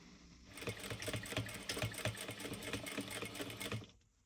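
A sewing machine runs a half-inch basting seam on a Tabitha dual wallet, a steady mechanical whir with rapid stitching pulses lasting about three and a half seconds, then stopping.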